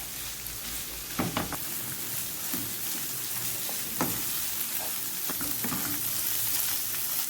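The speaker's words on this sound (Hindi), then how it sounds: "500 ग्राम हमने कीमा लिए, वो हमने डाला है। अच्छी तरह अब इसको फ्राई करेंगे।" 500 grams of minced keema fry in a pan with a dense, continuous sizzle, crackling and popping throughout, punctuated by a few sharper stirring scrapes, close and steady.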